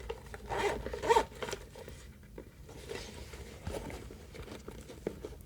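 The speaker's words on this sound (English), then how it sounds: "With a pocket and a zipper compartment back here." Bag compartment zipper pulled in two quick rasping strokes close up, followed by soft rubbing and handling noises.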